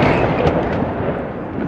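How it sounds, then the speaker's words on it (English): Heavy explosions from an ongoing battle at the Azovstal plant in Mariupol make a loud, continuous, rumbling roar that fills the whole stretch with no voices over it. "You can hear, it has sounded very, very strong explosions, and it is an ongoing battle."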